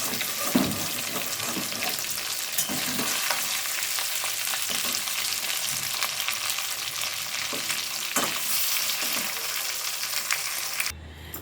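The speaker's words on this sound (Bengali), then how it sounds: "আলুগুলো আমি ভালোভাবে ভেজে নেব" Potatoes fry in oil with a steady, bright sizzle and scattered pops and crackles, heard close up for about eleven seconds before cutting off abruptly at the end, with no talking.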